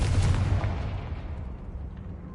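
A Confringo blasting spell exploding in Hogwarts Legacy, a single deep booming burst, loud and close, whose rumble trails away over a couple of seconds.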